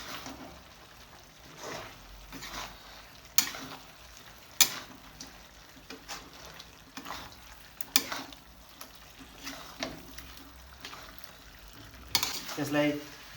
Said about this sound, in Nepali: गरम मसला हाल्ने हो। अब यसलाई चलाउने